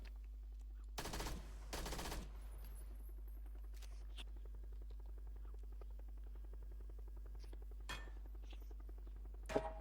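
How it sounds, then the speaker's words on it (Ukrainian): A couple of short, harsh bursts of rapid gunfire early on, then quieter scattered sounds over a constant low hum, in the video game PUBG. "подумав, що по нам стріляють"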